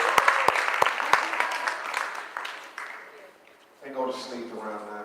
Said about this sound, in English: Can we just clap for the facilitators and thank them for facilitating?